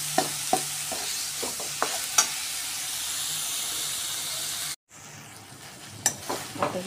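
Peanut powder stirred into bitter gourd cooked with jaggery, a low frying hiss with several sharp spoon knocks against the pan, a brief break, then more clattering stirs near the end.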